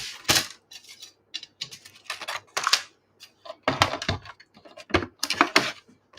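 A Stampin' Up! cut-and-emboss machine cuts paper card layers, making close, irregular bursts of clicking and rattling with short pauses between.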